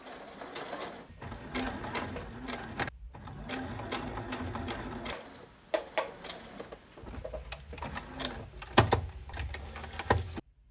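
A serger edge stitches a T-shirt in several bursts of steady, whirring, rapid stitching, with short pauses and a few clicks and handling knocks in between.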